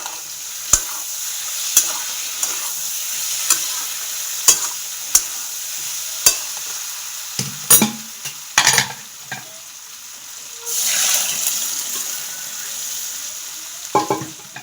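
Kitchen cooking of pumpkin-potato curry, dal, spicy prawns and sour snakehead fish, with a utensil scraping and stirring in a pan in sharp, irregular strokes over a steady frying sizzle that swells loudly near the end; no talking.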